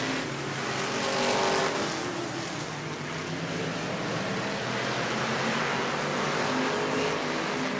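Sprint cars roar around a dirt track at the Auburndale Southern Sprint Car Shootout, a loud, steady blend of several engines at high revs that swells briefly before settling into a continuous racing drone.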